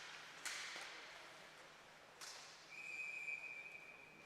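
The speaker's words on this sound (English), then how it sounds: "Wilson will hold that loose puck off the Sailors D for a whistle." A referee's whistle at a Paris Titans vs Port Dover Sailors ice hockey game shrills faintly in the distance, with two brief sharp bursts and then a longer sustained blast amid quiet arena ambience.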